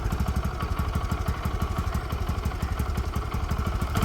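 A motorcycle engine idles close by with an even, rapid thumping beat that stays steady throughout, no voices present.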